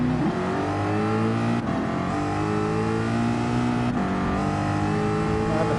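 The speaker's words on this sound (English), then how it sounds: "I had to burn out on nitrous." Ford Mustang Gr4 race car in Gran Turismo 7 revving hard on nitrous, a loud, sustained engine roar with layered harmonic tones and two brief dips where the pitch drops during gear shifts, close and constant throughout.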